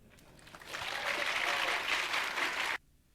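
Brief burst of audience clapping that swells quickly, holds for about two seconds, then cuts off sharply into quiet.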